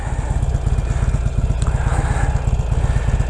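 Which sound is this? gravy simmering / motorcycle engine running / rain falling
motorcycle engine running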